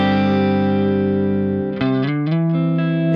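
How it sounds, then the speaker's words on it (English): An electric guitar rings through a pedal's vintage modulation setting: a sustained chord with gentle wavering, then a few new plucked notes and chord changes, loud and close with no talk. "Vintage adds a little bit of modulation to the guitar."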